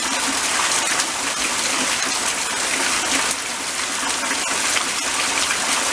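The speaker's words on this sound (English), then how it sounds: "Yeah, it's really coming down now." Heavy rain pouring down on a garden, a dense, loud, continuous hiss of falling water with no breaks.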